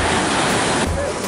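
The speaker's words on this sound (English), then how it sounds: "Right now the waves are just really, really rough." Rough ocean waves at Myrtle Beach crash in a loud, continuous roar of surf mixed with wind noise, close by and filling the short stretch.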